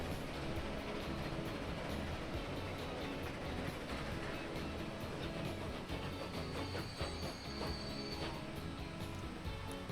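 A train runs in the Transport Fever 2 video game, giving a continuous rolling rumble with rhythmic rail clatter at steady loudness throughout, with no talk.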